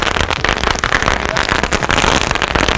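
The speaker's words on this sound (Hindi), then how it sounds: "ये चल रहा है जो मुर्गा छाप की लड़ी होती है ना, मिर्ची पटाखे वाली, उसकी तरह" A Diwali firecracker chain, like a chilli-cracker ladi, bursting in a rapid, continuous crackle of sharp pops for nearly three seconds, loud and close, with no voices.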